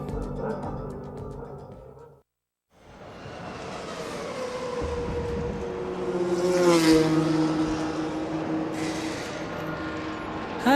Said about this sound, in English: the first engine of the day has fired into life right below my commentary box